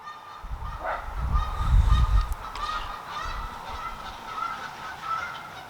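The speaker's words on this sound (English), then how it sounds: "I've got geese" Several geese honk repeatedly outdoors, loud and fairly close, their calls overlapping with a low rumble of wind gusting underneath.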